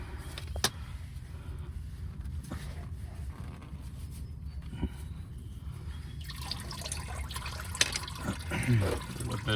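Oil drips and trickles from a car's oil filter in a garage. Scattered drips are heard close by against a low background, followed by busier liquid and handling noises near the end.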